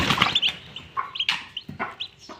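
A domestic village hen clucks close by her newly hatched chicks, giving a series of short, irregular clucks and soft calls mixed with faint high peeps.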